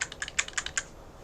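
Computer keyboard keys are pressed in a quick, uneven burst of about eight light clicks, close and fairly quiet, with no voices.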